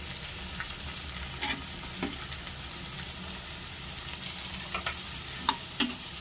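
Onions and tomatoes frying in a pan for a cashew gathiya curry, a steady close sizzle with intermittent scraping clinks of a spoon stirring the vegetables.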